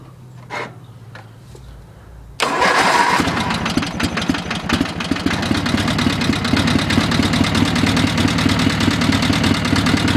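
A Sears ST16 lawn tractor engine cranks briefly, then catches and runs steadily at a loud, close, even idle with a rapid mechanical throb that continues to the end.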